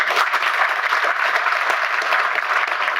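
A conference audience at an SEO research event applauds for the speakers, dense steady clapping from a large crowd filling the room throughout at even loudness.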